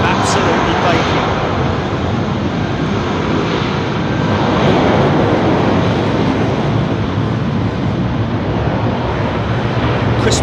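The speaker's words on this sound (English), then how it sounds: "Egypt Air 777 touching down. 27 left." An EgyptAir Boeing 777 lands on runway 27 left at Heathrow, its engines a broad, continuous roar heard from a distance, steady and loud throughout with some voice mixed underneath.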